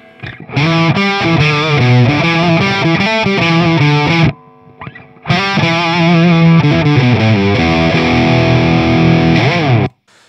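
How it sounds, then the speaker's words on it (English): A heavily distorted electric guitar played through a Boss OC-3 Super Octave setup plays loud, sustained chords and riffs, briefly pausing midway before ringing out again, with no voices. "Here's what my distortion sound sounds like."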